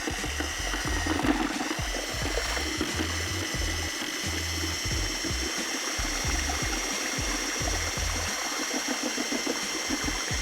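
A mixer turns on low, blending lime putty with water for lime wash. It makes a steady churning, sloshing whir with a fast, even low pulse that runs unbroken for the whole stretch.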